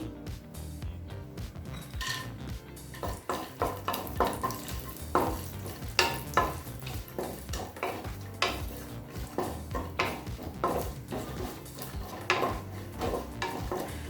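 Almonds and cashews fry in ghee in a pan while making sago payasam, with a steady sizzle broken by frequent clinking, scraping stirs of a spoon against the pan, close and fairly loud.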